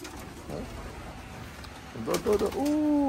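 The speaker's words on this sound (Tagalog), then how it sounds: "Lakas na ibon." Racing pigeons returning to the loft coo in a low, rolling rhythm near the end, with soft fluttery bird sounds and faint background noise before.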